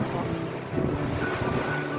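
Sailboat at sea beating upwind in a 10–11 knot breeze at just under 8 knots: a steady, close wash of wind buffeting the microphone over rushing water and hull noise, continuous and fairly loud, with no clear speech.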